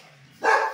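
A dog barks once from inside a house, a single short, fairly loud bark after a quiet moment.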